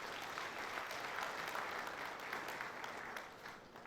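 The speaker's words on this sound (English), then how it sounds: "a round of applause for his family." Sustained applause from a university inaugural lecture audience, a dense, steady wash of many hands clapping at even loudness throughout, easing slightly near the end.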